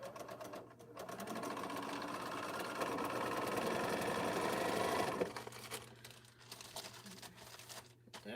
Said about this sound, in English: let's go ahead and sew these on 1/4 inch